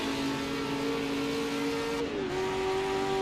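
A Ford GT40 race car accelerates in the Assetto Corsa racing game, giving a loud, continuous engine drone whose pitch climbs steadily and then dips briefly at a gear change before holding on.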